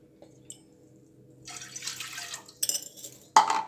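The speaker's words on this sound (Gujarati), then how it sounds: "હું 2 કપ જેટલું પાણી રેડીશ।" Water is poured into a pan to make dough for green tuver dhekra, a soft splashing pour with brief clinks near the start and end, heard up close with no talk.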